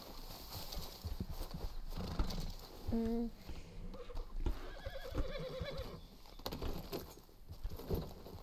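Horse hooves clip-clop at a gallop with a whinny and neighs in the Red Dead Redemption 2 game, the hoofbeats steady and fairly close beneath a busy outdoor backdrop with faint bird coos.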